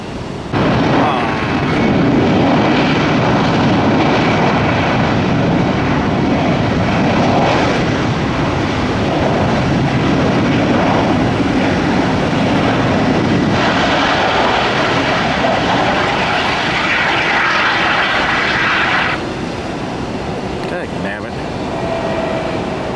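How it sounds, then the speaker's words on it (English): A Boeing 757 airliner lands at Tampa airport in rainy weather after a hurricane, its jet engine roar loud and sustained throughout, with talk heard faintly beneath before it eases off near the end. "I missed this landing of this 757 rocket ship."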